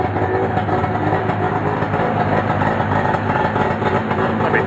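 Snowmobile engine idling while still cold inside a shop, a steady loud rumbling drone with a rough, even texture and no talk over it.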